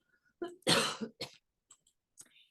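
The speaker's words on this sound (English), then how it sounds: "I'm gonna cough, excuse me." A single close cough burst followed by a couple of smaller throat-clearing sounds, fairly loud against otherwise quiet surroundings.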